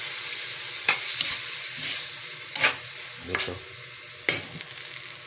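Dinuguan with calamansi is stirred in a pan, giving a steady sizzle broken by several sharp spatula scrapes against the metal, close and fairly loud, with a brief spoken word.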